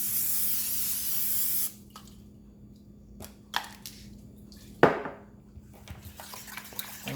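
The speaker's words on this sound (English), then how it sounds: "I'm going to spray my pan down." Cooking spray hisses loudly onto a Cuisinart waffle maker pan in one sustained burst, then stops, followed by a few quieter clicks and a brief scraping sound.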